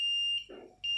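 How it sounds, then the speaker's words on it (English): A shrill electronic buzzer tone from a humidity and temperature sensor alarm sounds when its threshold is exceeded, cuts off briefly as something soft thumps, then resumes. "it has exceeded and the alarm started, the buzzer."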